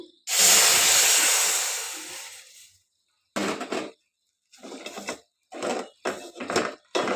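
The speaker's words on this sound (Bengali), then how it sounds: "এখন ক্যারামেল হয়ে গেছে, এখন এতে আমি দুধ দিয়ে দিব" Milk poured into hot caramel in a pan sets off a loud, steamy hiss that fades over about two seconds, followed by several short bursts of clattering pan and stirring noise.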